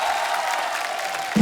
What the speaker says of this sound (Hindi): जोरदार तालियां असरानी साहब के लिए।